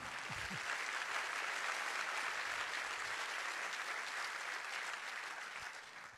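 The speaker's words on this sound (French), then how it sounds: "on peut les applaudir" Theatre audience applauding at a season presentation evening, a steady dense wash of many hands clapping that holds for several seconds at moderate distance, fading slightly at the end.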